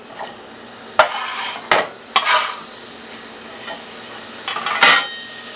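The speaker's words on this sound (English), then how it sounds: "Go ahead and sweat this onion down some." A small onion sweats in a warm pan, giving a soft, steady low sizzle with a few sharp stirring and scraping knocks against the pan. There is no talking.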